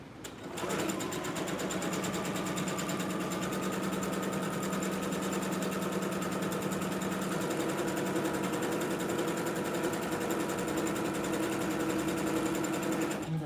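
A sewing machine runs an easing thread in one steady, continuous whir, loud and close, with no pauses and no voices.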